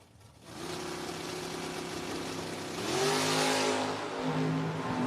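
Drag race cars, a Nova and a stretch Camaro, accelerate at a drag strip: engines hum steadily at a distance, then climb in pitch and swell louder as they pull away.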